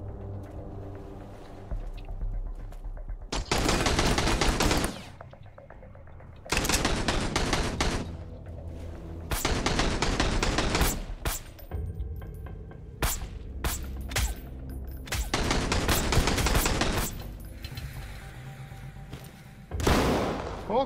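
Rifle gunfire in the Sunkenland survival game during a raid on an outpost: loud bursts of rapid shots in several clusters over twenty seconds, with quieter gaps and no talking.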